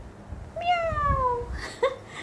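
A person's voice imitates a cat, giving one drawn-out, falling meow followed by a shorter second meow. Both are close and fairly loud over a quiet room.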